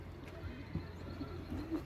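Performance tumbler pigeons at an open-country loft in Kartal give soft low coos several times at close range, with quiet outdoor background and muffled voices underneath.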